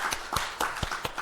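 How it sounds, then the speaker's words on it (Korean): Brief scattered applause at a Korean presidential senior secretaries' meeting welcoming an external expert from the Korea Labor Institute, a small group clapping unevenly for about a second. "박수로 맞이해 주시고"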